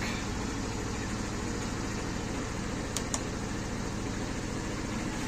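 SkyBike Quest 34 150cc scooter engine idling after warming up, a steady near low putter with regular pulses and a faint fan-like hum, plus two brief sharp clicks.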